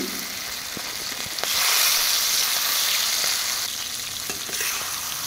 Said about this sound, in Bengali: লবণ দিয়ে মাছ ভাজবেন তেলের মধ্যে, দেখবেন একদমই জড়িয়ে যাবে না। তারপরে মাছগুলো ভেজে নেব এখন আমি